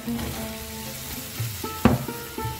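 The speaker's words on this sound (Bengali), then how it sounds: "এবার আমি ব্রোকলিগুলো দিয়ে দেবো" Broccoli and green chillies fry in a pan with oil, a steady sizzle broken by a few sharp stirring scrapes and clanks near the end, close and moderately loud with no talking.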